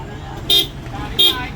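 Two short, bright horn toots sound close by, evenly spaced, over low background rumble.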